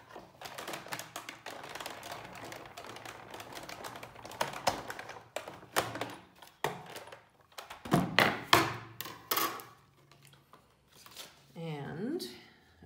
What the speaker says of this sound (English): I'm going to run it through my die cutting machine just to